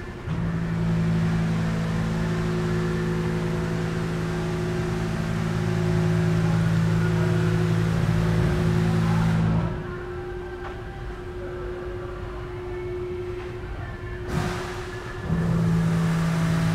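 A 5.0-liter MerCruiser MPI, 260 horsepower, in a 2007 Larson 228 LXI boat hums at a steady idle with a strong low drone, briefly drops off, then returns, heard close with no speech.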